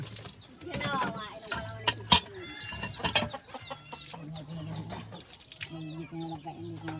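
A caged chicken clucks and squawks in short bursts amid clattering and people talking nearby.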